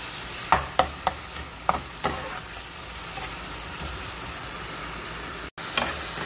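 Tomato drops into a hot pan of chicken and vegetable stir fry, with several sharp clacks and taps at first, then a continuous frying sizzle and a brief break near the end.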